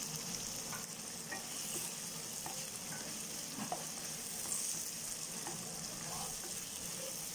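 Masala paste with salt sautéing in a pan, a continuous soft sizzle with occasional light stirring scrapes, close and steady throughout with no voices.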